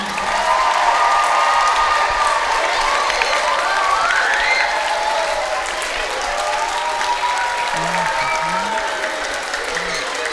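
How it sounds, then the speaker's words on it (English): An audience at an evening performance gives sustained, loud applause for the performers on stage. The clapping is dense and continuous, with scattered cheers, whistles and faint voices mixed into the crowd noise. "can we just have one more big round of applause for all of our performers on stage tonight?"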